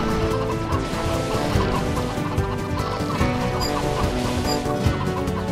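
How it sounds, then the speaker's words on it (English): Exploding birds whistling past in The LEGO Movie Videogame come through as a dense, continuous flurry of clucking, chicken-like bird calls, loud and close with no talking. "What's that whistling past? Just birds. Just exploding birds."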